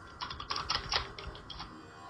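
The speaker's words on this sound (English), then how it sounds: "Typing away with your loud typewriter?" Loud clacking on a computer keyboard in a quiet room, quick irregular bursts of keystrokes with short pauses, close and alone.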